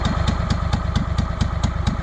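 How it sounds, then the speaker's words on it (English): The engine of a 2004 Craftsman DLT3000 lawn tractor runs at a steady speed, close by, with a rapid, even chugging pulse and a bright clatter repeating on every beat. "Seems like the engine runs pretty good."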